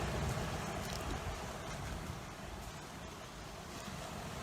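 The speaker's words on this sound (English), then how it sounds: "today's a bit blushy with the waves" Sea waves wash onto a beach near Valencia on Spain's Costa del Azahar on a fairly rough day, a steady broadband roar of surf with wind noise, continuous and close, with no talking.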